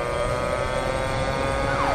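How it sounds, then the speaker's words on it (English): A police siren wails steadily and loudly for two seconds, with its pitch sweeping near the end; no one speaks. "That's the sound of the police!"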